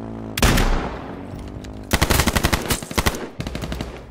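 Rapid automatic gunfire from the survival shooter H1Z1: a short opening burst, then a longer string of quick close shots and a final burst, loud and without talk.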